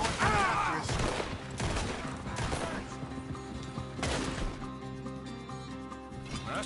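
Rapid bursts of gunfire from the video game Red Dead Redemption 2 crack out in a loud, dense volley that fades into an echoing tail, with a busy game soundscape underneath.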